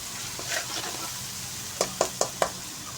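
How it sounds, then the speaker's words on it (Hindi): Spices for a potato and radish pod curry fry with a steady sizzle in a pan, then four quick, sharp scraping knocks of a spoon stir them near the end, close and alone without speech. "अब इसको हल्का सा हम मिक्स कर लेंगे मसालों को"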